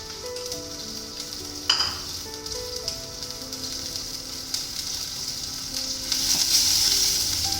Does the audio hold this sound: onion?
yes